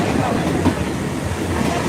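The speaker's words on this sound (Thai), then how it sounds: "อันนี้บรรยากาศของรถไฟ" A passenger train running in a third-class carriage on the line to Hua Hin, Thailand, a steady loud rumble with rhythmic clattering wheels throughout and no clear talk.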